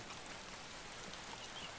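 Steady rain falls outdoors near a road at night, a soft, even hiss of drops with no pauses and no voices.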